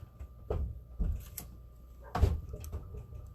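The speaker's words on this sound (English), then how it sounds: "Are you about done slamming doors in and out all the traffic?" Household doors bang open and shut with people going in and out, giving three or four moderate thuds spread over a few seconds against a quiet indoor background.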